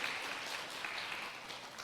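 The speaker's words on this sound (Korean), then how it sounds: "우리가 박수로 한번 예" A church congregation at a Sunday service applauds visiting pastors, a soft, even wash of clapping from a crowd in a large room, heard at a distance with no talk.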